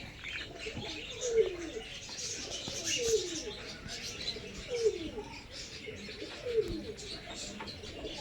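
Pigeons cooing nearby in a slow, regular rhythm, four soft coos spaced about two seconds apart over faint background noise, during pigeon training.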